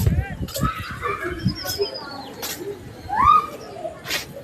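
Soft, low cooing calls from pigeons repeat near by on a rooftop, mixed with other bird chirps and a voice speaking at moments.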